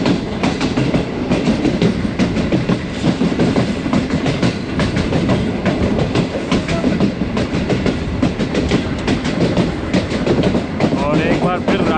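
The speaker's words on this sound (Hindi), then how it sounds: "और एक बार फिर राइट साइड पे कर्व लेगी ट्रेन हमारी।" The Awam Express, on a new rake between Peshawar and Rawalpindi, rolls loudly along the rails with continuous rumble and rhythmic clickety-clack from close inside the carriage.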